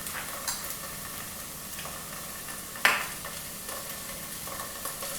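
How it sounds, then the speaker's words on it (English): Onions with ginger garlic paste sautéing in a pan for a vegetarian thali, a gentle steady sizzle with one sharp utensil clink midway, close and without talk. "I have been sauteing the onion for 3 minutes now."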